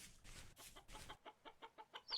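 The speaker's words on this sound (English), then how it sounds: "I hear the chicken, I don't see the chicken." Chicken clucks in a video game, a run of quick rhythmic clucks, fairly close and alone, with no talk over them.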